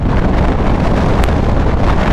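Wind blasts against a rider's visored helmet aboard a 2005 KTM 950 SM supermoto on the move, a loud, continuous roaring buffet that drowns out all other sound.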